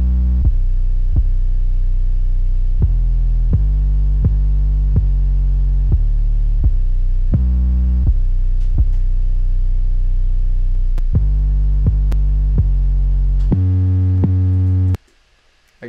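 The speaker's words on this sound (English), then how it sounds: "then I had this 808." A deep, sustained 808 bass from a simple FL Studio hip-hop beat booms loudly, with long low notes that change pitch under light percussive clicks, then cuts off abruptly near the end.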